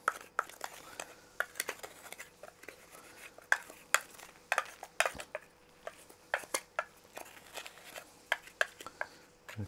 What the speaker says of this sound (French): Je mélange tout ça ensemble